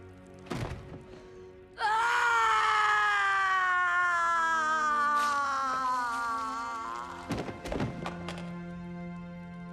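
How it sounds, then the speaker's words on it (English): Catelyn Stark, played by an actress, lets out a piercing final scream in a Game of Thrones scene: a loud, sustained cry that starts suddenly, slowly falls in pitch over about five seconds and fades, framed by brief thuds before and after. "that final scream that she lets out is just piercing"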